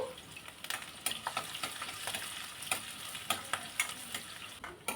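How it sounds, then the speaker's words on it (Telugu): Chopped onions and green chillies fry in hot oil in a kadai, giving a steady crackling sizzle with frequent small pops and stirring ticks, close but fairly quiet. "ఆయిల్ వేడికిన తర్వాత కట్ చేసి పెట్టుకున్న ఉల్లిపాయలు పచ్చిమిర్చి ముక్కల్ని వేసుకొని నేను ఫ్రై చేసుకుంటున్నాను"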